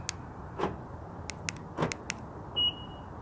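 Short electronic chirps from a 2018 Honda Pilot key fob remote start sound a few times, followed by one brief higher beep, with light clicks in a quiet setting.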